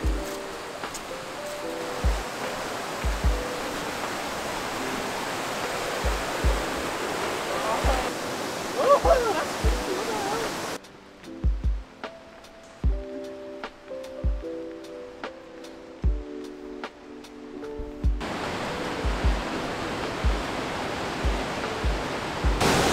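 A deep mountain river rushing at a ski camp, steady broadband roar with clicking footsteps or pole taps, muffled in the middle as if the microphone was covered, with talk at times.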